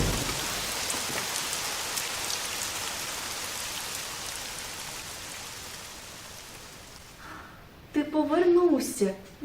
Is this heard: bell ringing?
no